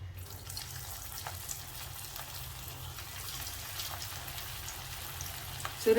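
Cabbage manchurian balls frying in hot oil give a steady, dense crackling sizzle that holds evenly throughout, close and moderately loud with no voices.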